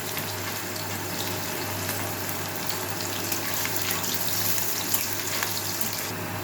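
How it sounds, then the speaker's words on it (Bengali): Potato pieces fry in a pan with a dense, steady hiss and fine crackle throughout, close and fairly loud, with no speech over it. "আলুটা ভাজা হচ্ছে, ভাজা হয়ে আসুক"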